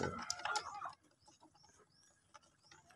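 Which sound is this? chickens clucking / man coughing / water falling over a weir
chickens clucking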